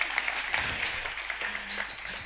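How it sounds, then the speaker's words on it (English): Audience applause from a conference crowd at a tech talk on testing in production, moderate and scattered clapping rising and falling across a couple of seconds in a large hall. "so now the applause, thank you"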